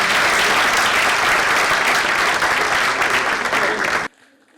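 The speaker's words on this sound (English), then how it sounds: "a small round of applause to society stores" A small audience claps in a steady round of applause at a quiz event, dense and continuous for about four seconds before cutting off abruptly.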